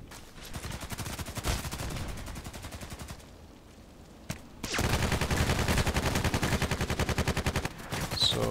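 Rapid automatic gunfire in the Contract Wars online shooter, sustained bursts close up with a brief lull midway before heavier, louder firing resumes.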